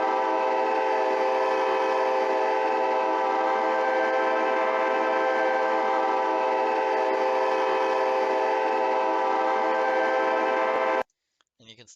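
A looping train horn for the Trainz train simulator, a steady multi-tone chord held loud and unbroken for about eleven seconds before cutting off abruptly into near silence with a small trailing pop.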